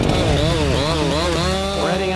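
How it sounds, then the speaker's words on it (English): Chainsaws cut hemlock, fir and cedar at a mountain logging site, a steady wavering engine whine with rising and falling revs running loud and continuous throughout. "I can hear the chainsaws already."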